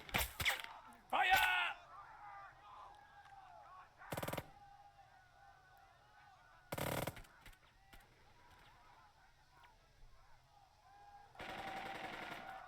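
Scattered bursts of gunfire in the tactical war game Burden of Command, a few sharp volleys spaced seconds apart, moderately loud, with some honking and other battle sounds between them.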